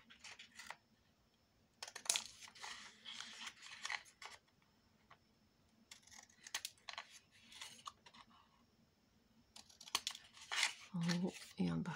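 Scissors snip paper for a tunnel album, cutting at a slight bevel, in a series of close, crisp snips and rustles in irregular bursts, with quiet pauses and a voice speaking near the end.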